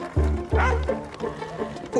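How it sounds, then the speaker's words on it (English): Several dogs bark in a street as a woman stands by her belongings spilled on the pavement, loud sharp woofs and yips close by, with some whimpering between the barks. "And some dogs are coming."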